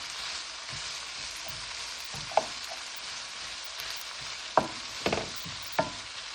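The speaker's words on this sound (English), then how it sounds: "So we are sauteing this until the tomatoes start breaking." Tomatoes sautéing in a pan under a constant hissing sizzle, with a few sharp spatula clicks and scrapes in the latter half, close by and otherwise free of talk.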